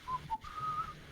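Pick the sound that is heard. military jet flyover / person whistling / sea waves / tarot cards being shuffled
person whistling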